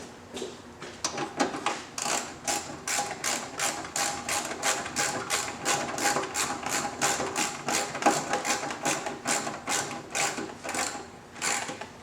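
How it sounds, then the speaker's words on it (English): A tool rapidly works bolts on motorcycle torque tubes fitted to a steel-frame Victory, a fast regular ratcheting clatter repeating many times up close with brief pauses. "So we just tighten the bolts up."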